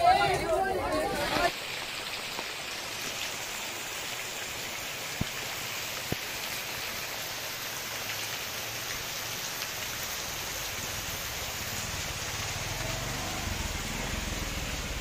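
Heavy rain falls steadily outside a home, a dense, even hiss of drops on surfaces that holds across the whole stretch, with a couple of faint knocks and a brief voice near the start.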